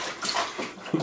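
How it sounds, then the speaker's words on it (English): Water splashes and sloshes in a bathtub in quick, bright bursts, close and fairly loud, with a heavier slap near the end. "Wow, that's good splashes."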